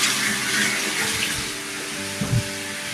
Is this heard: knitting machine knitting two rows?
no